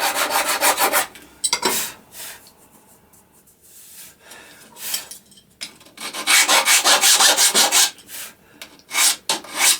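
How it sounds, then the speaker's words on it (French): A hand file rasps across wood in several bursts of rapid back-and-forth strokes, loud and close, with quieter pauses between the filing passes. "je vais finir ça à la lime"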